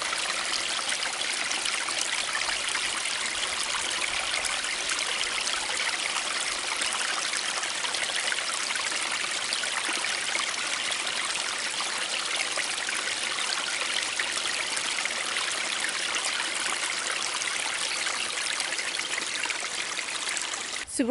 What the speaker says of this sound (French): j'arrive à une petite rivière, un petit peu d'ASMR rivière